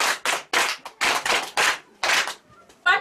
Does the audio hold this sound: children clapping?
yes